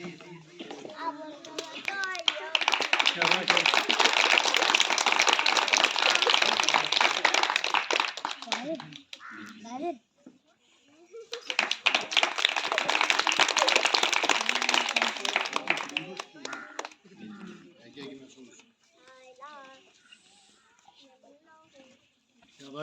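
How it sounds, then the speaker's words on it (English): An audience claps at a retirement event honouring a senior faculty member, with two long bursts of sustained applause and a short pause between them. Voices and scattered chatter come through before, between and after the clapping. "Clap."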